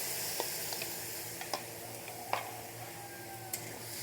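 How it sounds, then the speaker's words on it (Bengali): Spice mixture frying in a pan for rajma, a quiet continuous sizzle with a few sharp spoon taps and clicks scattered through it, close by and without speech. "এবার ভালো করে মশলা কষিয়ে নেবো"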